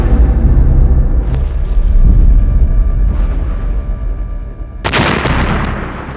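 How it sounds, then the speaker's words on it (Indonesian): A massive, rumbling blast on the bridge of the warship RI Macan Tutul fills the air with deep roaring low end, followed by a sudden sharp second burst near the end. "ledakan hebat."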